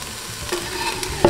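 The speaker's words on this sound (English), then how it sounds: "Okay, so now I'm gonna add the garlic in." Garlic and onion go into a pan for vodka sauce and are stirred. A brief soft sizzle with a stirring scrape ends in a sharp utensil clank.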